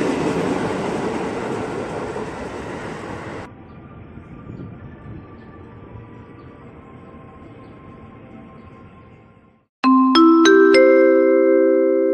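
KRL commuter electric train on the Bogor line at Depok Baru station, a loud broadband rumble that drops to a steadier rolling hum with tonal whine, then sharp bright chime-like tones near the end.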